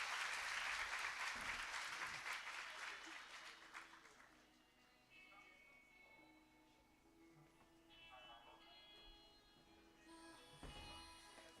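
Applause for the mayor at a provincial launch event, loud clapping at the start that fades away within a few seconds, followed by quiet room tone with faint murmurs and background noise.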